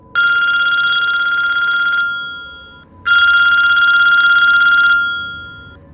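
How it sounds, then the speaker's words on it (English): A telephone bell rings loudly, two long trilling rings separated by a brief pause, each ring fading out as it stops, with no voices. "the phone rang."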